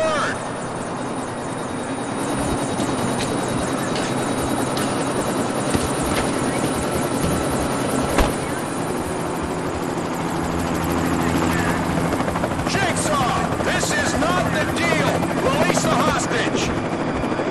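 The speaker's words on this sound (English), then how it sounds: "Chopper's here, Jigsaw!" A helicopter arrives in The Punisher video game: a loud, steady rotor roar fills the whole stretch, with faint game effects layered over the droning chop.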